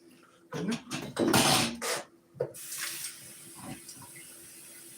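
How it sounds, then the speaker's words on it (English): Wine-making equipment is rinsed under a running tap, with water splashing and gurgling in uneven bursts, then a steadier hiss of flowing water. The sound is close and moderately loud, and faint talk can be heard in the background. "And go through and rinse it out."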